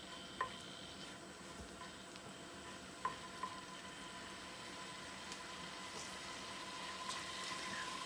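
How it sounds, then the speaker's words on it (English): Aromatics sautéing in a pan in a home kitchen, a steady soft sizzle with a few sharp clinks of a utensil against the pan. "now we just want to saute this until fragrant"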